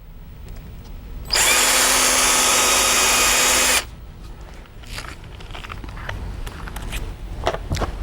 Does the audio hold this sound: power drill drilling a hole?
yes